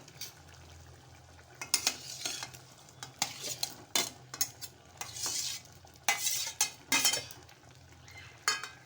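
Pieces of shark mutton, Malvani style, are stirred into a simmering mixture in a metal pot, with repeated close scrapes and clinks of the spoon against the pot over a soft bubbling sizzle.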